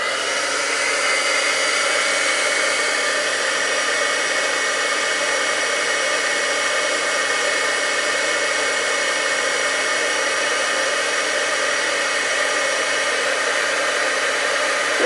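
A heat gun blows steadily to melt embossing powder on a greeting card, a loud, even whooshing hum held without a break from start to finish, no talking.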